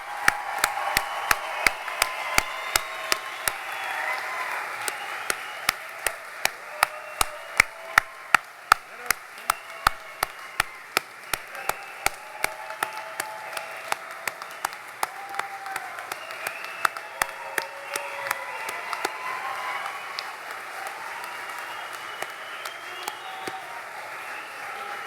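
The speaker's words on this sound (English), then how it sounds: "please give a big round of applause for all of our graduates" Audience applause at a naval nuclear power training unit graduation ceremony, with sharp individual claps standing out against a softer crowd of clapping that goes on steadily at moderate volume.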